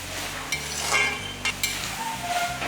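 Eggplant pieces sautéing in oil for a Tamil kathirikkai gotsu, a soft continuous sizzle with a few light stirring scrapes and utensil taps against the pan, fairly quiet and with no talking.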